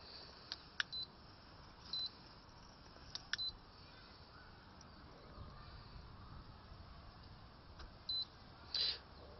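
Electronic door lock responding to a key fob with several short, high beeps spread over the span, faint and close, with small clicks and handling noise against quiet room tone.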